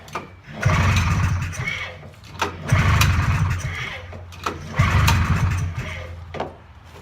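A Polaris engine cranks over and over without catching, three loud rhythmic whirring bursts of several seconds each with short pauses between, recorded close up in cold conditions.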